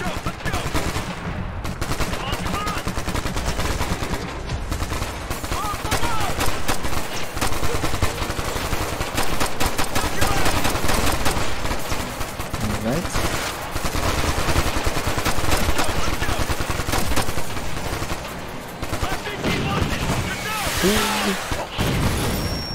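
Gunfire in Ghost Recon Future Soldier: loud, near-constant automatic weapon bursts and single shots with occasional heavier booms, sustained across the whole stretch.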